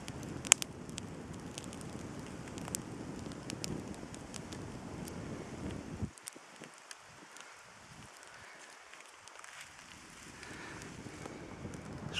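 Wind gusting over an outdoor campfire: steady rushing, rustling noise with occasional faint crackles, easing briefly partway through before picking back up, fairly quiet and close to the microphone.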